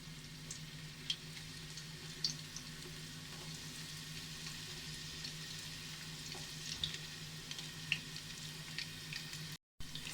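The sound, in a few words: chopped onions frying in hot oil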